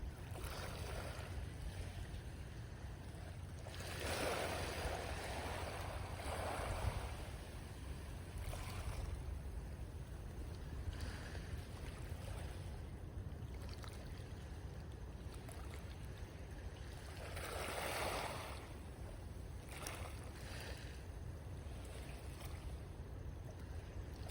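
Sea waves at the Marshall Islands near Majuro wash in soft, quiet swells of surf, rising and falling gently in an otherwise calm outdoor setting with no talking.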